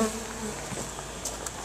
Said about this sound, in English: The bees are a little aggressive today